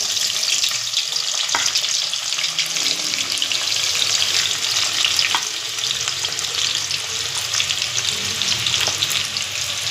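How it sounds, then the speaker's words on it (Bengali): Chopped onion frying in hot refined oil, a steady, dense crackling sizzle that stays loud and even throughout, with a few faint clinks and stirs and no voices. "তেল গরম হয়ে গেলে ওতে প্রথমে পেঁয়াজ কুচি দিয়ে দেবো।"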